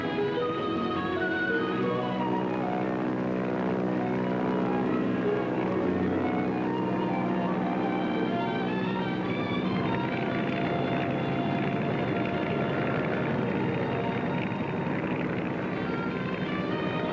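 An early airplane flying a loop gives a continuous droning engine hum. Its pitch shifts and wavers as the plane climbs and turns over, then settles into a rougher, broader roar. No talking throughout.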